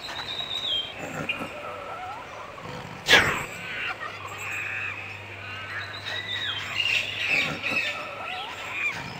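A cartoon parrot in the 1997 PC adventure game Thomas og Tim lets out one sharp squawk, followed by warbling, whistling bird sounds that carry on under the game's background.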